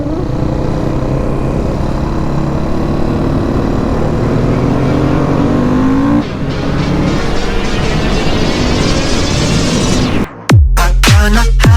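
A supermoto motorcycle engine drones loudly and then climbs in pitch as the rider opens the throttle for a wheelie, ending in a few sharp, choppy revs close by.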